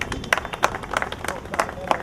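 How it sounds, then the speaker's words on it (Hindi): Crowd at a retirement ceremony claps in a lively, uneven patter of many hands, steady and fairly close, with an announcer's voice speaking over the applause. "तालियां बजती रहनी चाहिए दूसरे साथियों से देखिए"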